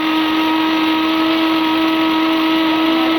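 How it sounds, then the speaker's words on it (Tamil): A mixer grinder grinds rice and lentils with cardamom, running steadily at high speed, a loud continuous whirring drone with a sharp motor whine throughout. "இதை ஒரு மிக்ஸி ஜாரில் சேர்த்து அரைச்சி எடுத்துக்கலாம்"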